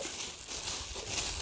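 Plastic vinyl sheet, used for covering pumpkin seedlings in a garden, handled and crinkled close by, giving a continuous crisp rustling and crackling over a second and a half.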